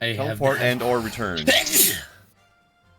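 A single sneeze lands right after a short stretch of speech, a sharp hissing burst followed by quiet, captured close on a voice-chat stream.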